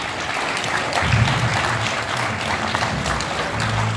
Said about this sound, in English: Give them a round of applause for your champion.